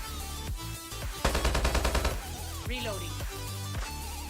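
HBRa3 assault rifle firing in Call of Duty Mobile: one rapid, evenly spaced burst of shots lasting under a second, with a voice talking before and after it.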